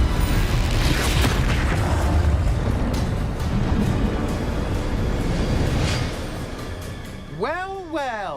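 Bombarda spell blast in the Hogwarts Legacy video game on hardest difficulty, a loud continuous rumbling explosion with creaking debris, then sweeping magical whooshes near the end.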